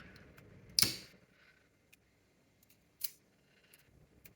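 A strip of tape is pulled and pressed onto a page of a travel journal, giving a sharp rip near the start and a second shorter tear later, with soft faint handling noise in between, and nobody speaking.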